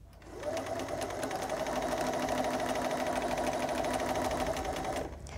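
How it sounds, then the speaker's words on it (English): A sewing machine chain-stitches straight across from one charm square to the next, running as a continuous, close, evenly loud motor hum with rapid needle chatter for about five seconds before stopping. "I'm going to stitch straight over from one charm square to the next"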